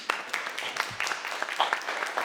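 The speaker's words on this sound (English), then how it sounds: "A round of applause." Scattered, fairly faint applause from an audience at a book launch event, a light round of claps with a little speech mixed in.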